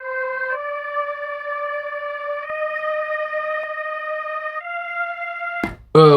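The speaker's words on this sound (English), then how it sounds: "This is called Feller Tron Choir. It sounds like this." The Feller Tron Choir preset from the Expand synth plugin sustains a smooth choir chord through a few chord changes, echoing and reverberant and played alone, before a brief burst of noise at the very end.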